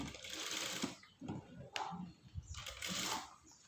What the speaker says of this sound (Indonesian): langsung kita ke jahit, langsung dijahit ya